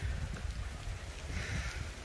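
Summer rain falls over a village in rural Punjab, Pakistan, as a steady, soft hiss with low rumbling underneath. It continues evenly throughout with no voices.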